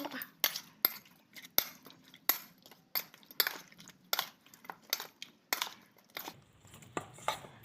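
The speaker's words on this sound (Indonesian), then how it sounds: "Kemudian diaduk. Kita ngaduknya pakai sendok aja yang mudah." A metal spoon scrapes and clinks steadily against a bowl while stirring tuna pieces, with repeated sharp taps in an irregular rhythm, close up and fairly loud.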